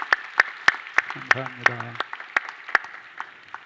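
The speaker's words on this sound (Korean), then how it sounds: "우리 박수로 한번 축하합시다, 여러분" A small church congregation at a monthly prayer service claps in steady, evenly spaced beats, with a brief spoken thanks partway through.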